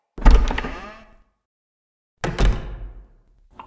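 In the Japanese horror RPG The Witch's House, two separate heavy door sounds land about two seconds apart, each a sharp close thud with a ringing decay into silence.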